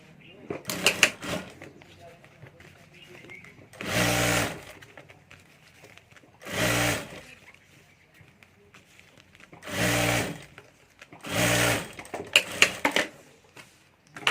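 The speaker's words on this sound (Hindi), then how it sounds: "तो यहाँ भी ऊपर मैं एक सिलाई कर देता हूँ।" A sewing machine stitches seams on a handmade cloth hand bag in several loud, close bursts of rapid mechanical whirring, separated by pauses filled with quieter handling sounds and occasional talking.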